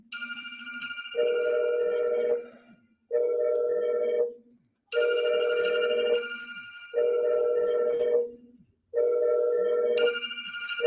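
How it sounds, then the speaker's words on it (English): A phone rings loudly in repeating patterns of a high tone alternating with a lower one, separated by short pauses, with no talking. "Y'all can hear my phone ringing."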